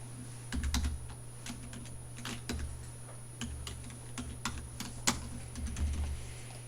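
Computer keyboard keys tapped while entering values in 2D CAD software for injection mold design, a run of light, fairly close clicks in short irregular bursts with a steady electrical hum underneath and no talking.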